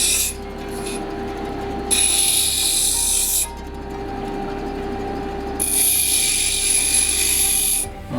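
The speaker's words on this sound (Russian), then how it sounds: "вот именно так шлифуем. В этот момент, края становятся, более такими гладкими." A wooden piece has its edges sanded and smoothed by hand: two long, loud bursts of steady close-up abrasive rasping, separated by a quieter stretch with a faint hum underneath, and no talking.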